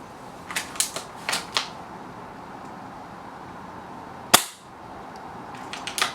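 Echo1 ASR airsoft sniper rifle firing BBs outdoors: one sharp, loud snap of a shot stands out against a quiet background, with softer clicks of handling before and after.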